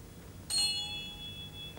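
Metal bars are struck once, giving a bright ringing tone with overlapping high pitches that slowly fade, fairly quiet and close.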